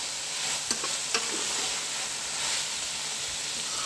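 Banana stem pieces fry in a hot pan with a steady close sizzle and hiss, broken by a couple of sharp stirring scrapes of the spatula.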